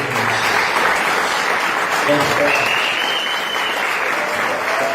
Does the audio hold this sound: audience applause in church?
yes